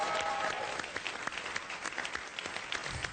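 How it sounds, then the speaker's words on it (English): An audience claps for the comedians of Tough Love New Orleans after a comedy evening; moderately distant applause with scattered distinct claps, gradually thinning as it goes on. "Let's give them a round of applause."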